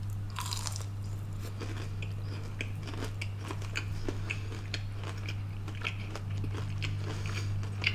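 Repeated crisp crunches from biting and chewing crunchy fried chicken, close to the ear, over a steady low hum in the background.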